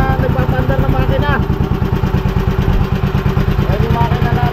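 A small boat or outboard-type engine runs steadily up close, its even mechanical clatter filling the whole stretch while someone talks over it.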